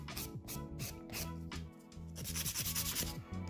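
Gel nails are filed off with a nail file in quick, rhythmic rubbing strokes, heard close and fairly quiet with no talking.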